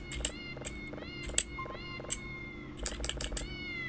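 A cat in the video game Voices of the Void gives several short meows in quick succession, each a bright, close call over a low steady game hum, with no talk.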